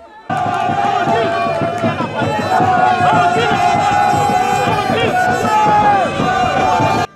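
A large crowd in Ngaoundéré, Cameroon cheers in welcome of the mayor, with shrill ululation riding over constant loud babble and shouting, close and continuous.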